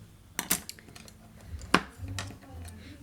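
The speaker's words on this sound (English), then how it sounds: "this brush again, clean it off a little bit." A paintbrush is cleaned off between colours, giving a few light clinks and taps against a container with faint rubbing in between, close and quiet.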